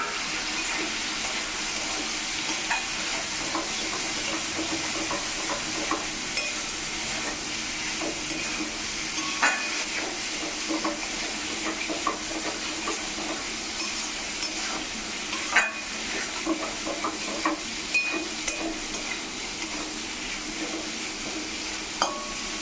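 Potatoes and fried shola kochu (taro) go into cooked-down spices in a pan for an aloo kochu curry, giving a steady close sizzle and frying hiss with scattered stirring scrapes and small clinks throughout.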